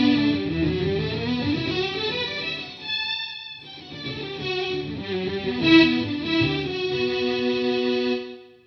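An orchestral strings patch played through an Electro Harmonix MEL9 Tape Replay pedal swells in sustained chords with a warbly, chorused tape texture, the notes shifting and briefly thinning before fuller chords return and fade.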